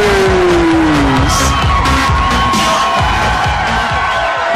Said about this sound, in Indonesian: Tepuk tangan sekali lagi untuk Abro